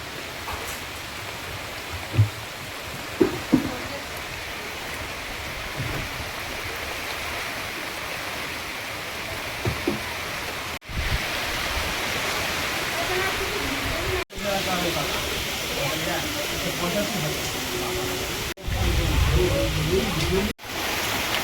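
Heavy rain pours down in a storm as a dense, steady hiss that runs for the whole stretch, broken only by a few brief cuts and scattered knocks.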